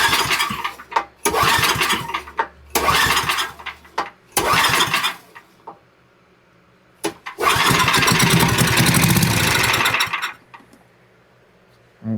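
An old Powermate generator engine coughs through several short sputtering start attempts separated by pauses, then catches and runs loudly for a couple of seconds before cutting out, close by with no talk.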